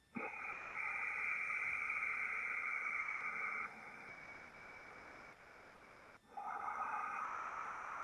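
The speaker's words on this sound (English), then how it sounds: "add a little bit of a sound, what we call ujjayi, which is like an ocean sound at the back of the throat" A steady hissing ujjayi yoga breath through the throat, like soft ocean surf, a long exhale, a brief pause, then another breath begins.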